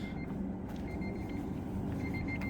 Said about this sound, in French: il bip pour me dire que les toits ouvrants sont pas fermés